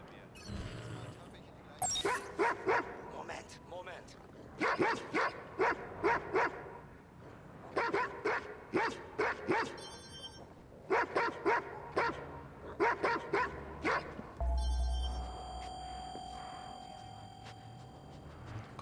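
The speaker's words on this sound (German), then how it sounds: "Da ist ein Hund." Dog barking inside the Watch Dogs 2 video game: repeated bursts of barks and yips in clustered rhythmic groups, fairly close and loud, with game ambience and a brief low thump between.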